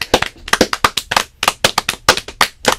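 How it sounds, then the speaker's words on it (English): Applause from a radio show audience: a burst of sharp, uneven hand claps from a small group, loud and close, with separate claps rather than a dense roar. "I always think we should start the show by just giving us a round of applause"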